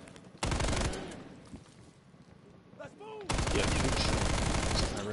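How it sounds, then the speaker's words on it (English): Loud sustained bursts from an RPD light machine gun in Call of Duty Black Ops Cold War, two long close volleys with a quieter pause between, plus faint ringing effects. "This RPD is easy. I mean, yeah, I guess that's also an LMG"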